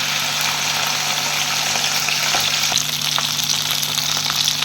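Sliced okra fries in hot oil in a pan, giving a steady, loud, close sizzle with a faint low hum beneath it and no talking.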